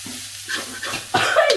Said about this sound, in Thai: แล้วก็เดี๋ยวทำการผัด พริกแกงให้เข้ากับเนื้อนาไปก่อนนะครับผม